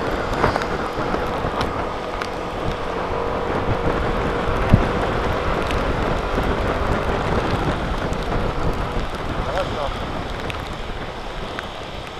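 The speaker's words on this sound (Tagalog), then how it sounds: "Medyo maulan nga lang tayo, sir," Rain falls steadily during a motorcycle ride, a dense hissing wash mixed with wind buffeting the microphone, continuous and fairly loud throughout.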